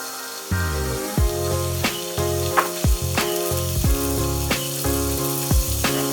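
Beef brisket pieces sizzle on a hot electric grill, a loud continuous hiss broken by sharp crackles and pops as the meat sears, with no talking.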